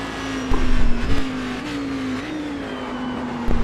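Race cars in a sim racing game at the Homestead track drone past with a loud, sustained engine whine that shifts pitch as they shift gears, with brief louder surges and no talk.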